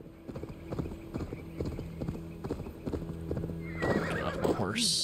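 A horse in Assassin's Creed Valhalla clip-clops at a steady trotting pace, then neighs loudly near the end, with faint game ambience behind.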